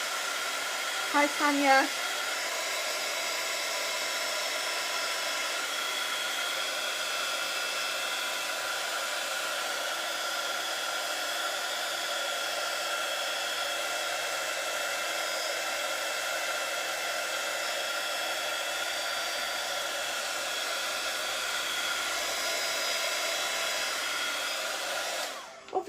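A hair dryer blows steadily on a mixed-media journal page, a loud, continuous whooshing hum lasting the whole stretch and cutting off at the end, with a brief greeting spoken near the start.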